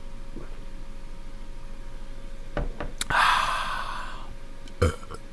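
A short, weak burp after drinking Coke comes up close as a breathy gulping exhale lasting about a second, preceded by a couple of small clicks and followed by a faint thump.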